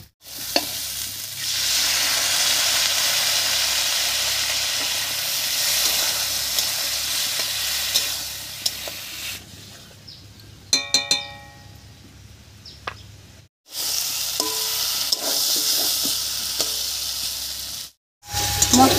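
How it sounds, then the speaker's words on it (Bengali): Spices fry in a pan after spice-paste water is added, for a drumstick (moringa) ghonto. A loud, steady, close sizzle runs for several seconds, then breaks for a few metallic clinks, and the sizzle starts again. "এবার একটু মশলা বাটা জল দিয়ে কষিয়ে নেব"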